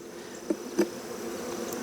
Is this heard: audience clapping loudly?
no